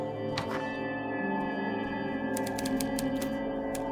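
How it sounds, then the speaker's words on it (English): Typewriter keys clack in the video game Destination: Saturn, scattered sharp taps over a steady tonal in-game background hum, fairly quiet with no voices. "Something's typing."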